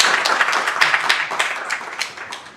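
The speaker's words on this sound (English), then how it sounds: "So everyone applaud." A modest crowd at a talk claps before a conversation and audience questions, with distinct individual claps audible in an irregular patter that thins out toward the end.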